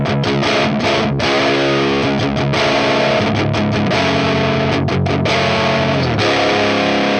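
Electric guitar played through a Line 6 Spider Valve HD100 amp on its twang blue setting, a loud, sustained, distorted tone with strummed chords and ringing notes throughout, no talking.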